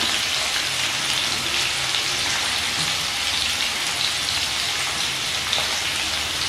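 Potato pieces fry in hot oil in a pan with a pinch of salt, giving a steady, even sizzling hiss throughout without pauses or speech.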